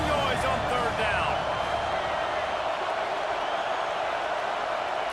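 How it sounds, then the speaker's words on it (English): Loud, steady stadium crowd roar from a College Football 26 game, a dense wall of noise that keeps going the whole time, with whistles and shouts rising out of it and speech faintly underneath. "This dog crowd is off the leash, and they are coming after them, bringing noise on third down."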